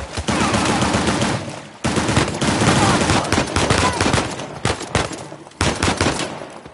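Video game gunfire from Uncharted: The Lost Legacy, rapid bursts of automatic fire and single shots in a heavy ambush firefight, loud and near, broken by brief gaps.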